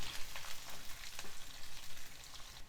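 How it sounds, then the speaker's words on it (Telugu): Finely chopped onion and green chillies frying in a pan, giving a soft steady sizzle with light crackles and the occasional stir, quiet and close with no talking. "ఒక మీడియం సైజ్ ఉల్లిపాయ సన్నగా తరుక్కొని వేసుకోవాలి ఒక రెండు పచ్చిమిర్చి సన్నగా కట్ చేసుకొని ఇవన్నీ వేసుకోవాలి ఒక రెండు నిమిషాలు వేగనివ్వాలి"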